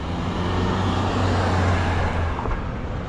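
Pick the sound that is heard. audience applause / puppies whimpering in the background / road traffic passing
road traffic passing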